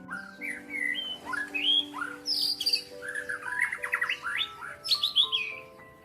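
A white-rumped shama sings a rich, melodious string of varied whistles, trills and fluting phrases, clear and fairly close, alone over a faint background hum.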